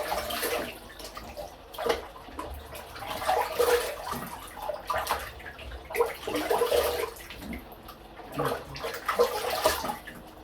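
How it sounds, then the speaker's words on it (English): Cold water splashes in bursts during a wet shave at a sink, with several uneven scoops and washes spaced a second or two apart, fairly close and without talk. "Okay, cold water splash ray."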